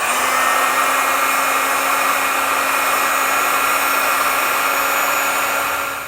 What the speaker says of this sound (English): I'll come in with my heat source and seal them up.